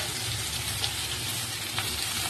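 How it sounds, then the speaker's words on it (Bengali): Fish coated in mustard paste sizzles in hot oil with a close, constant hiss and a couple of small crackles in a brief stretch. "এই মাখাটা তেলের মধ্যে দিয়ে দেবো আমি।"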